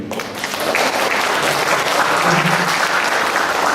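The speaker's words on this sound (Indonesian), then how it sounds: "Wah, kita beli aplaus sekali lagi." An indoor audience at an evening Buddhist Dharma course gives a sustained round of clapping, dense and even throughout, building slightly and staying steady to the end.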